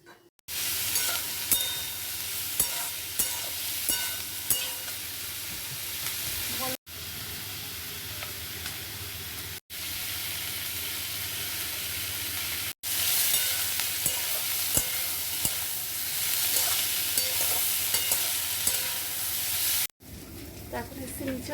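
Chowmein-style noodles frying in a pan, a continuous loud sizzle and hiss with scraping stirs, broken by brief pauses, heard close up.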